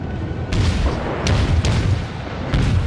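Four heavy naval cannon booms from a World of Warships battle fire at uneven intervals over a constant low rumble, each blast sharp and loud.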